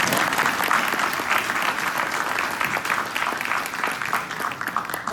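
Loud, sustained applause from a crowd at an ROTC Hall of Fame ceremony, honoring the executive director: dense clapping that holds steady throughout with no pauses.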